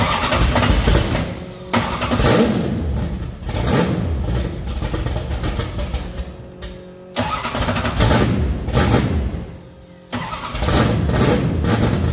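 Small-block Mopar V8 cranking and firing up after a valve adjustment, running without a carburetor fitted, with loud close engine roar and rough revving. Two short dips break the sound along the way.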